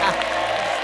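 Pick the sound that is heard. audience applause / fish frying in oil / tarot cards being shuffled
audience applause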